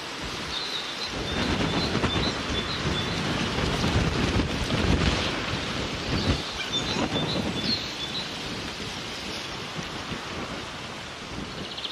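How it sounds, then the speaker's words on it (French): Strong wind buffets the open water on a winter carp fishing session, a continuous roar with gusts that swell and ease, and heavy rumble across the microphone. "Le vent se lève sérieusement."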